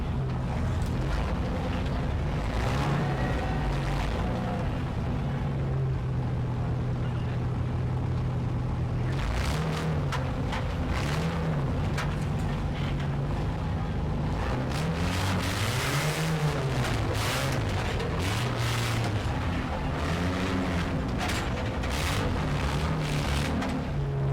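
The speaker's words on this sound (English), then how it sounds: "496 cubic inches of V8 echoing around the valley" A 496-cubic-inch V8 in a tough truck at an outdoor off-road competition roars loud and continuous, rising and falling in pitch as it revs repeatedly across the valley, with wind buffeting the microphone.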